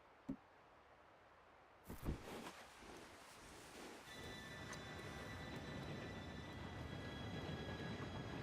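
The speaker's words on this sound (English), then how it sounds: "Train should be here any minute now." A train approaches in the Red Dead Redemption 2 game, opening on a quiet scene with a couple of knocks before a broad rumbling roar builds steadily and holds loud, with faint high tonal squeals layered on top.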